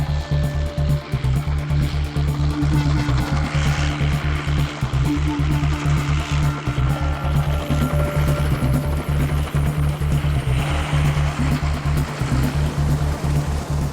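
A helicopter used in wildfire firefighting drones loudly and steadily, with a constant low rotor thrum and broad engine rush that never lets up.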